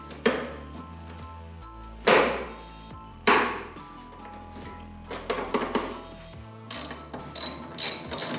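A ratchet tightens the cabin filter cover on a PT Cruiser, giving close, crisp clicking runs in several bursts with short pauses and a few thunks between them.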